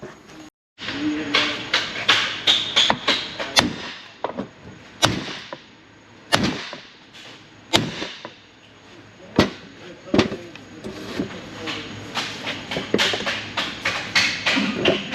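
A U-joint held in a bench vise is struck repeatedly to knock it out. Loud, sharp metallic hammer blows land at irregular intervals, some in quick bursts and others spaced apart, over a quiet workshop background.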